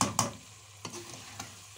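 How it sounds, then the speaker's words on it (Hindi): Beef with garam masala and black pepper stir-fried in a karahi, a steady low sizzle broken by a few sharp scraping strokes of the spoon. "तो इसे अब अच्छी तरह से भूनूंगी"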